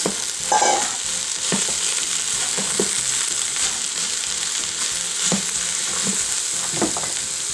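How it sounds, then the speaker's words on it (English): Vegetables, cabbage among them, go into a pot for a zero-point soup after sautéing and get stirred, a loud, continuous sizzle with scattered scraping and clattering knocks, close up and without talk. "I'm gonna go ahead and add all of my vegetables to it."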